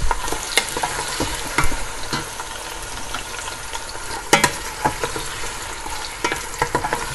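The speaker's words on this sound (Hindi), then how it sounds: "ये इसमें देखिए ये फ्राई हो रही हैं।" Raw mango pieces frying in ghee with a little oil, a loud, close crackling sizzle broken by repeated sharp clanks and scrapes of a spoon stirring against the pan.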